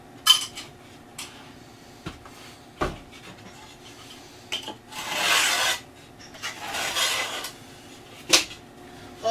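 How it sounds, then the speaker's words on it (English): A drywall rasp scrapes rough edges off a cut piece of drywall in a few separate bursts of rasping, some longer strokes and some short sharp scrapes, close and moderately loud with quiet gaps between. "I always use the drywall rasp just to take any rough sections off."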